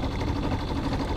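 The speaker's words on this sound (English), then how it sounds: "Why did you start the engine?" A sailboat's inboard engine idles on Lake Erie, a brief, steady, close chugging drone with no voices.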